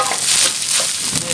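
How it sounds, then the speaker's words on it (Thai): Rice mixed with egg stir-fried in a pan for red-sauce train-style fried rice, with soft scraping stirs and a light sizzle in brief repeated bursts. "แล้วพี่ปูก็ลงผัดเลย"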